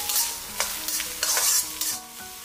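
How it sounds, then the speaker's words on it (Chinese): Garlic, scallion whites and dried chili stir-fried in a little oil over low heat give a steady close sizzle, broken by several brisk spatula strokes through the pan. "锅留底油，然后下入蒜末、葱白、干海椒，给它开小火煸炒出食材的香味"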